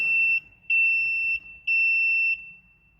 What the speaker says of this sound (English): Warning buzzer works, so that's good.